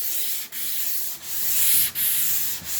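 Sandpaper scrubbing across a stripped wooden table, a steady hissing rasp in long back-and-forth strokes with brief pauses between passes, close and clear with no talk.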